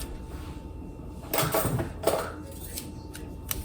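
Disposable cutlery and plastic lunch containers are handled, giving a few close clattering, rattling bursts and small knocks separated by quiet pauses.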